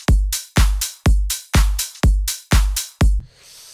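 Layered clap samples in an FL Studio beat, struck seven times at an even, moderate pace, each hit a sharp, bright snap with a quick decaying tail, ending in a soft noise wash.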